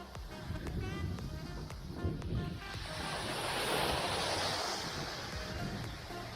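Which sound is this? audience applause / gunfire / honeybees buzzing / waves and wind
waves and wind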